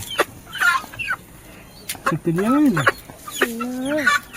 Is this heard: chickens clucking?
yes